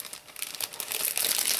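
A cellophane gift bag being scrunched up around a lint roller, giving a close, brief burst of crisp crinkling that grows busier toward the end, with no talking.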